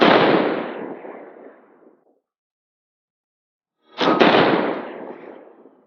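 Two sharp 6.5 Creedmoor rifle shots with Federal Premium 130-grain open-tip match rounds through a 22-inch fluted barrel, each a loud broadband crack tailing off over about two seconds, separated by silence.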